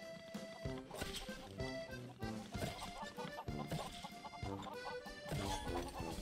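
Chickens cluck among pigs and other farm animals in the building game Lego Worlds. Busy, overlapping clucks and squawks run for several seconds over layered game sound, with some talk faintly mixed in.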